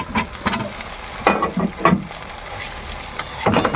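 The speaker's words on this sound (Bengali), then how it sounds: "খম আলুটা দিয়ে দিচ্ছি" Khamalu yam added to a hot pan with turmeric and Kashmiri chilli powder for a boal fish curry, a close loud sizzle broken by bursts of stirring and scraping.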